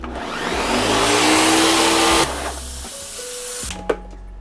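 Ninja food processor puréeing cooked pumpkin, a loud close whirring motor that runs steadily, then drops to a lower pitched spin before stopping with a clunk.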